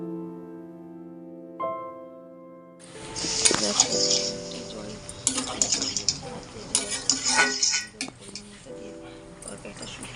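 A spoon clinks and scrapes through fried vegetables, shrimp shells and ground spices in a pan, with a faint sizzle beneath. A steady tonal hum plays throughout, and the stirring comes in irregular bursts.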